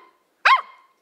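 A single sharp bark from a puppy, short and high-pitched, with a faint tone before and after in an otherwise quiet space.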